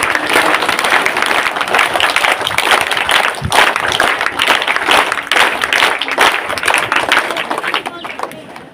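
Students at a school welcome event in Badulla applaud, a dense, loud, continuous clapping that fills the whole stretch and fades slightly at the end.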